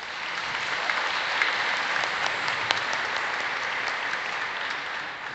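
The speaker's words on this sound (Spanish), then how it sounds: "Le pido un aplauso para el Padre." A church congregation at a Spanish-language Mass claps steadily for the priest, a dense, even round of applause held at moderate level throughout.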